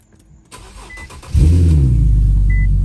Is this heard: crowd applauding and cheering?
no